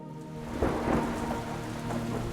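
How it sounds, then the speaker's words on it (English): Heavy rain pours down steadily while thunder rumbles low through it, a dense, continuous wash of falling water at moderate level with no voices. "the skies opened and the heaviest rain the animals had ever seen before started falling down"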